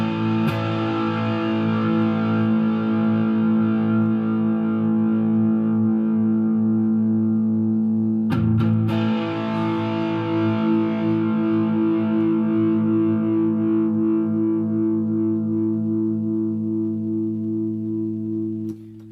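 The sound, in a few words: electric guitar through overdrive pedal, full gain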